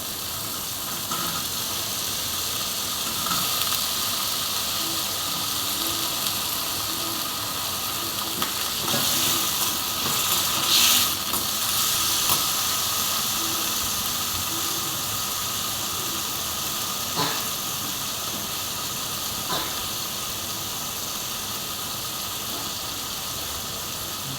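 Diced potatoes fry in hot oil in a pan for sabudana khichdi, giving a steady, close sizzle throughout with occasional scraping stirs and light clinks.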